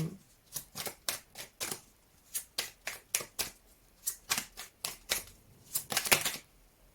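Tarot cards shuffled by hand in a steady run of about twenty crisp, papery riffles and slaps, close and fairly quiet, with no talking.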